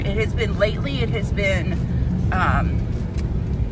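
Steady low rumble of road noise inside a pickup truck cab on a drive, a constant engine and tire drone under a person talking close by.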